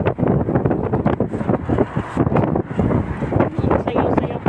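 Outdoor wind buffets the microphone in a dense, steady roar with gusty swells, while a person talks throughout.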